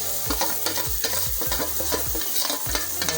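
Ground masala paste sizzles in hot oil for a raw cashew nut usal while being stirred briskly, close-up rhythmic scrapes and thuds of the spoon over a constant frying hiss.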